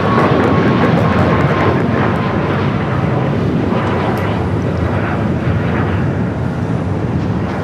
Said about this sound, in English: Next takeoff, United Airlines Flight 2268, heading to Dulles, 757 at 300.